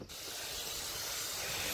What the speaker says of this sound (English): get your hose back out and just spray it on down.